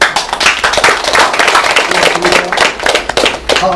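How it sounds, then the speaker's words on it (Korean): Close, loud clapping from a lecture audience at a district office talk on constitutional values, sharp individual claps in a quick uneven rhythm forming a short burst of applause. "박수."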